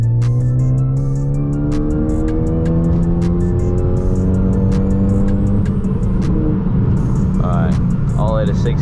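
A Ford Focus ST pulls away at full throttle, its engine note climbing steadily through the revs, loud and close from inside the car, with a shift near the end and a brief voice over the engine.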